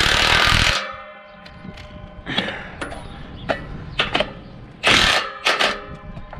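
Impact wrench tightening bolts on a Case IH 3800 disk, a loud burst at the start, then a few shorter rattling bursts later, with quieter clanks and shop noise between.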